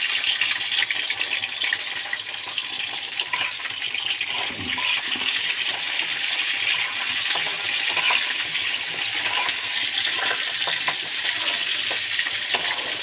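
Crab pieces frying in hot mustard oil, a steady loud sizzle and crackle that continues without pause, with occasional stirring clatter in a home kitchen.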